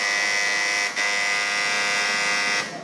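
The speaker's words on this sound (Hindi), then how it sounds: "सबसे पहले आपने बजर दबाया" A quiz buzzer pressed during a children's Eid quiz gives one loud, steady electronic buzz for nearly three seconds, with a brief dip near the one-second mark and no voices.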